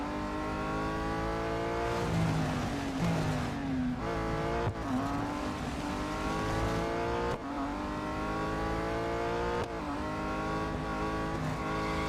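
Race cars speed around the track in the racing game Real Racing 3, a continuous loud engine whine with gear shifts, rising and falling revs and occasional tyre squeal as cars jostle close by.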